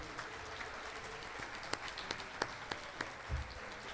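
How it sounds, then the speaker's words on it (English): Audience applause at a college alumni and athletics hall of fame induction ceremony, thanking the food staff and chefs after a meal; steady moderate clapping throughout with a few sharper claps standing out. "give a round of applause to thank the food staff and the chefs for that great meal"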